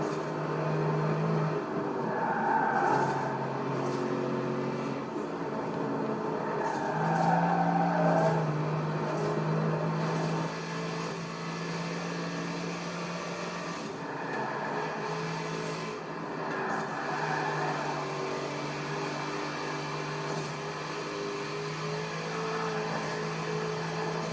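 A new Corvette supercar driven in Forza Horizon 4 gives a steady, sustained engine drone with shifting pitch and occasional tire noise, continuous and fairly even throughout with no talking.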